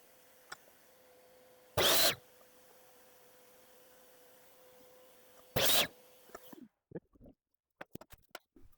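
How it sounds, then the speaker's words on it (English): A miter saw cuts wood boards for a DIY planter box in two short, loud bursts a few seconds apart over a steady low hum, with light handling knocks afterwards. "So now I'll go to the miter saw and make those cuts."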